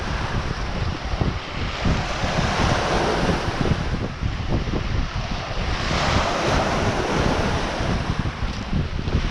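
Ocean waves wash continuously onto a beach, a loud, steady roar of surf mixed with gusty wind noise across the microphone.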